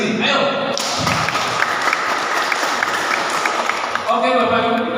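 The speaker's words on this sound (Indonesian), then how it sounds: "Kita tepuk tangan untuk diri kita sendiri." An audience claps together for a few seconds, a dense patter of many hands, with a voice speaking just before and after.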